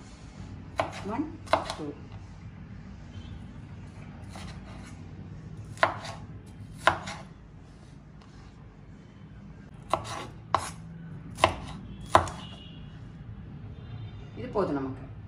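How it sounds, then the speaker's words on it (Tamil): A knife chops green and red capsicum on a cutting board in scattered, sharp thuds and short bursts of strokes, close and crisp, with quiet pauses between and a person talking. "அடுத்து குடமிளகாவும் இதே மாதிரி சைஸில் கட் பண்ண போகிறோம்"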